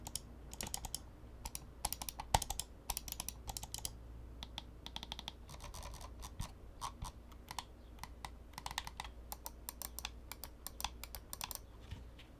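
Rapid, crisp scroll-wheel clicks from a Razer Basilisk X Hyperspeed wireless mouse in irregular bursts, close and fairly quiet, with no voices.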